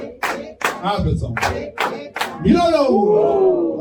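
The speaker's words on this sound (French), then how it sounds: "Applaudissons." A church congregation at worship claps in a quick, steady rhythm of sharp bursts, then breaks into loud voices and cheering.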